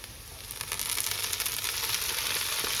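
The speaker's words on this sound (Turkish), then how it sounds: "Öncelikle soğanı yağda birazcık kavuracağım." Steady sizzling of onions frying in hot oil in a pan, a bright crackling hiss that grows slightly louder and continues without pause.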